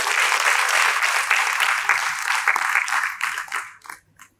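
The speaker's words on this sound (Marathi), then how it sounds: "एकदा जरा जोरात सगळ्यांनी टाळ्या वाजवा सरांच्यासाठी" A seated audience at a health discussion session bursts into loud, dense applause that holds steady for several seconds, then thins into scattered claps and fades out.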